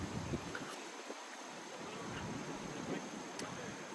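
Steady outdoor wind buffeting the microphone, a broad rushing noise with low gusty rumbles that rise and fall throughout.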